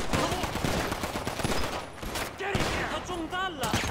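Rapid bursts of gunfire in the GTA 5 video game, crackling in dense volleys that run through most of the moment. Excited voices shout over the shooting.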